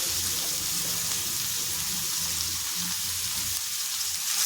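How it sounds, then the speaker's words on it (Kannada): Grated carrot frying in a pan for a bread toast recipe, a steady close hiss and sizzle running continuously without talk. "ಕ್ಯಾರೆಟ್ ಸೇರಿಸಿದ್ಮೇಲೆ ಇದನ್ನು ಒಂದು 5-6 ಸೆಕೆಂಡು ಫ್ರೈ ಮಾಡ್ಕೋಬೇಕಾಗುತ್ತೆ"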